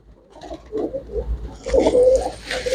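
Pigeons kept by a pigeon fancier coo in soft, rising and falling bursts, close by and fairly loud, with a stronger stretch of cooing in the second half and no talking.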